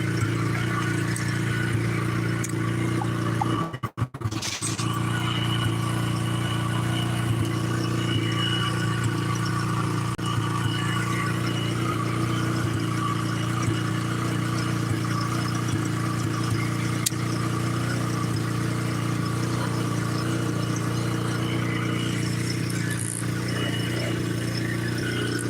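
A KTM motorcycle engine runs steadily with the choke on, holding a high fast idle near 4,000 RPM. The tone stays constant and close throughout, broken only by a brief sharp clatter near the start.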